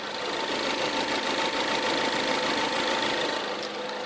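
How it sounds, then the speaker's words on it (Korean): A Ford 2.0 EcoBoost gasoline engine in a low-mileage SUV idles with the hood open, giving a steady, even hum with a light ticking texture, close and continuous with no talk. "엔진 소음 먼저 들려드리면은"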